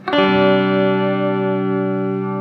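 A sustained guitar chord played through a Chase Bliss Audio Warped Vinyl MKII pedal set to soft sine-wave modulation with high depth rings out with a gentle, smooth wavering shimmer, fading slowly over a couple of seconds.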